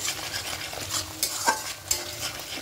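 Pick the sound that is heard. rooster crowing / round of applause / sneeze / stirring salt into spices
stirring salt into spices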